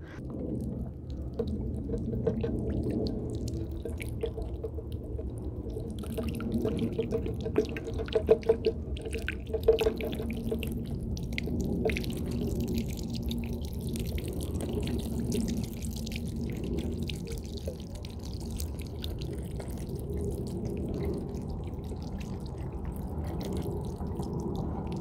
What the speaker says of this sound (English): Give it a good watering first time until the germination.